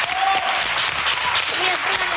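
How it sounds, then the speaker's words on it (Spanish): A studio audience on a carnival-themed television show claps loudly and continuously, a dense close wash of applause filling the whole moment with a few voices mixed in. "Público, este aplauso para ellos."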